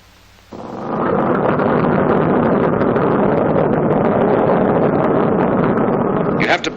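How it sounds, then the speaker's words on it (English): A Boeing B-29 Superfortress piston engine catches and runs, jumping from near quiet to a loud, steady, rough roar that holds without pause, heard close with some wind buffeting. "The same procedure is repeated until all 4 engines are running."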